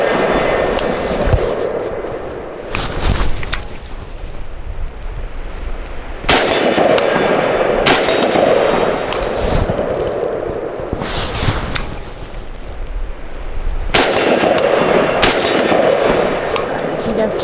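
A WBP Fox rifle fires at a shooting range, sharp loud reports cracking out every few seconds over constant heavy wind and rumbling background noise.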